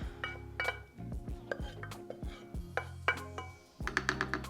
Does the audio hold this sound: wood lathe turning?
no